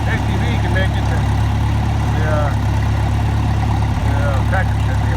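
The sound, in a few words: tractor engine running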